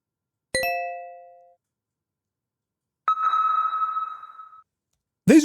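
BlackBerry phone ringtone, a non-default tone of clean electronic chimes: a bright bell-like ping that rings out and fades, then a second sustained tone after a pause, and the start of a third at the end.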